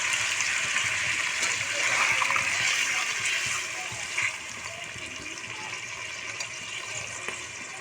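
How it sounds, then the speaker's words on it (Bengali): Water is poured into a pan of potato, pointed gourd and prawn curry, a broad splashing gush that eases into a softer, steady trickle. "এখন আমি জল অ্যাড করে দেব"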